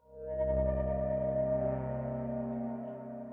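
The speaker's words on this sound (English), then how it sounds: "Yeah, this is like a distortion layer." Serum 2 synth preset with a parallel distortion layer, a sustained, loud, harmonically rich tone that holds steady for several seconds with gritty overtones and no voices.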